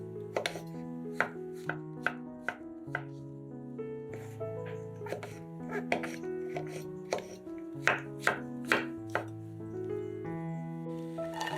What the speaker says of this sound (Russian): Шампиньоны моем и нарезаем кубиками.